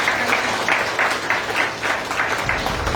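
Applause from a graduation ceremony audience, a steady wash of clapping from many hands, moderately loud and continuous without pause.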